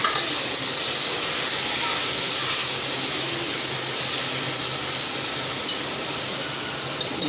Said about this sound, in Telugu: వేసుకొని ఆయిల్లో మంచిగా ఫ్రై అవ్వాలండి